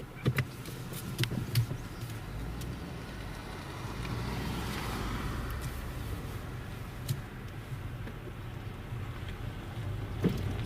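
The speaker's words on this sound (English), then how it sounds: "Uh-oh, we've got a car coming and it's going to frighten it." A car approaches and passes along a rural road, a broad rising and fading whoosh peaking midway, with wind noise and scattered clicks and knocks around it.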